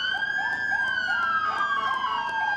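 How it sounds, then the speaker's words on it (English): Several emergency vehicle sirens wail together at a first responder parade, a loud sweeping tone gliding slowly downward over repeating rising yelps, continuous and close with no talk. "Did we mention the sirens?"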